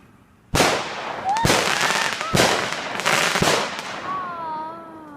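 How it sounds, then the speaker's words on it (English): Several loud fireworks go off in succession, each a sharp bang followed by crackling bursts, with a whistling tone rising near the end. "I see fireworks."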